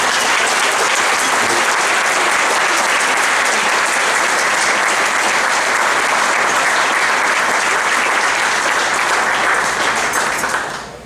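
A gala audience gives sustained, loud applause for a speaker at a charity event, a dense wash of clapping lasting about ten seconds before tapering off at the end.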